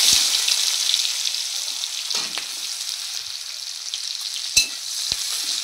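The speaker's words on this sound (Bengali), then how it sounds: "পেঁয়াজটা আমি লাল লাল করে ভেজে নেব।" Chopped onion hitting hot oil with dried chilli and cumin, a loud bright sizzle that carries steadily throughout, close up, with a couple of brief stirring knocks.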